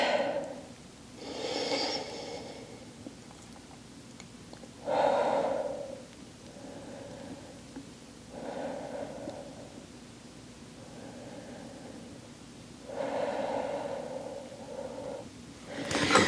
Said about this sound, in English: in through the nose, out through the mouth with your breath